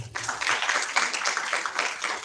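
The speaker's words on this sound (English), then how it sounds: "Big round of applause for you all." Applause from a conference audience at an Indic healing systems event, a dense, steady patter of many hands clapping at moderate distance, sustained for a couple of seconds without talk over it.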